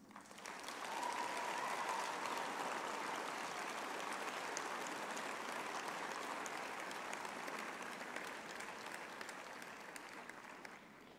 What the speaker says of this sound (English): I would also like to request our graduates today to applaud their families, friends, and spouses